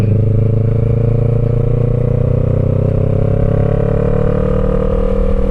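A Kawasaki Versys 650 motorcycle cruises along a road, its engine droning steadily and loud from the rider's position, pitch slowly climbing as it accelerates, with wind noise throughout.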